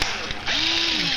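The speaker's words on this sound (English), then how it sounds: "You need a drill with a battery pack." A cordless battery drill bores an air hole into a soda can laid on its side. After a brief click, the motor whine rises and holds steady, close and loud.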